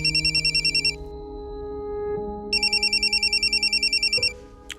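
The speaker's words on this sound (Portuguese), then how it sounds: "um dia o Josafá me ligou pedindo ajuda" A telephone rings for an incoming call, two bursts of rapid electronic trilling separated by a pause, loud and close over a quiet background hum.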